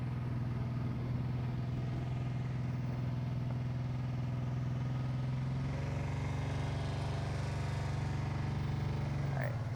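An off-highway vehicle's engine runs close by in a steady, loud drone, its pitch stepping up a little partway through and then settling as it keeps idling.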